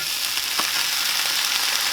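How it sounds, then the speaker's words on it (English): Slices of bologna sizzle in a hot pan, a dense, steady hiss of frying fat that holds at an even loudness throughout, close by and with no voices. "we're going to fry up some bologna"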